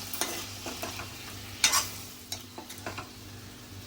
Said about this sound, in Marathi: मसाले तेलावर परतल्याने छान रंग येते